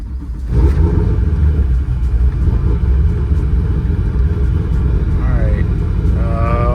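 A supercharged car engine with a blower cranks and catches, then settles into a loud, steady rumbling idle close by, with a brief rev-like rise near the end.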